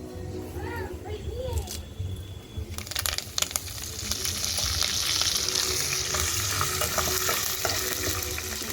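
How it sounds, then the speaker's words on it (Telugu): Fresh curry leaves hit hot tempering oil with fried seeds in a pan over a wood-fired stove. The sizzle flares up loud and fizzing and stays steady, with a voice talking and utensils clinking just before. "ఇప్పుడు కరివేపాకు వేసుకుందాం."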